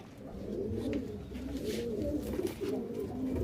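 Pigeons in a loft give low, throaty coos that overlap in a soft, continuous murmur, fairly faint and close, with no speech.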